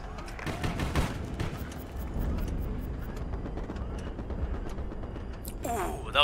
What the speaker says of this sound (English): Ooh, that was a fat explosion from that Navarin with a bomb.